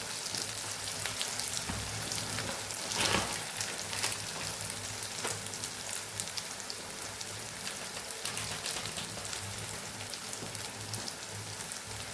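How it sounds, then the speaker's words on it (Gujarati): A spiced chickpea and potato curry masala sizzles and spatters in a pan, a steady dense crackle close up with no voice. "સરસ મસાલાને સાતડી લઈશું"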